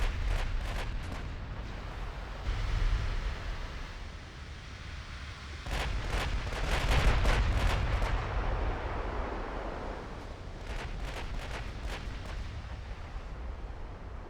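Heavy naval gunfire from a cruiser shelling a destroyer in the naval strategy game Ultimate Admiral: Dreadnoughts: repeated deep booming salvos and rumbling impacts in clustered bursts over a steady low roar, with no voices.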